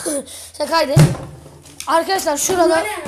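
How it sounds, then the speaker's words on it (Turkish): A door in an abandoned school slams shut once with a single sharp bang, surrounded by people talking nearby. "Kapı kapandı abi."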